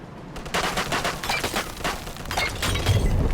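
Rapid gunfire from a shootout in the video game Mafia 2 Definitive Edition, dense overlapping bursts of shots and cracks filling the whole stretch with no pauses, loud and close.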